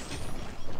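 Sentry gun deploying in the mobile shooter COD Mobile, a brief dense mechanical whirr and ratcheting clatter lasting under a second, loud and close with no talk over it.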